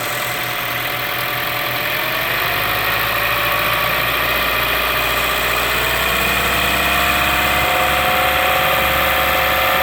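A Chevy Cruze 1.4L turbo engine runs steadily close up, its hum swelling slightly as the throttle is opened, with no voices.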